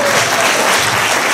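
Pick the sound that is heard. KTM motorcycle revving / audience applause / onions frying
audience applause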